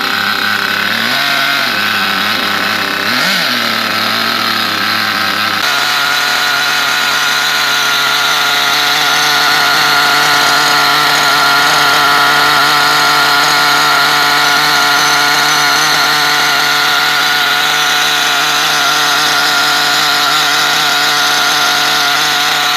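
Small Picco P7 Evo 3 model glow engine, with glow starter attached, being run in: a loud, high, buzzing whine that shifts pitch early, then holds a steady screaming tone close up.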